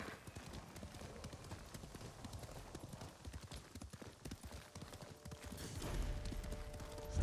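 Rapid, steady clip-clop of horse hooves galloping while riding in the video game Ghost of Tsushima, continuous and fairly close throughout, with a brief louder swell near the end.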